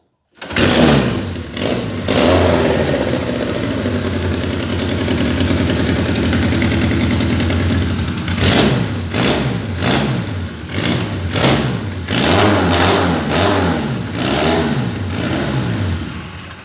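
A small Riva engine sputters to life, then runs loud and rough nearby with no muffler, only a bare pipe, revving up and down repeatedly in uneven bursts.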